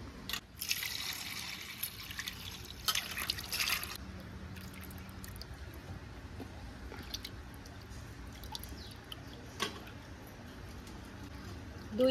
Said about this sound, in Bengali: তো এবার আমি ধুয়ে নেব।